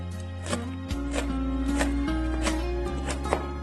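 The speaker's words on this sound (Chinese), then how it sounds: "2、3个小米辣切成圈" A knife cuts two or three fresh small chili peppers into rings on a cutting board, making a steady run of crisp, close taps over a continuous low hum, with no talking.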